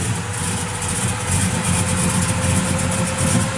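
A 1966 Chevrolet Chevelle SS 396 V8 with a 4-speed and electric exhaust cutouts idles just after starting, giving a loud, steady, deep rumble that holds even without any voices.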